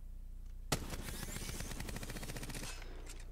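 R99 submachine gun in Apex Legends firing one sustained rapid burst of about two seconds, loud and close, with no talk over it.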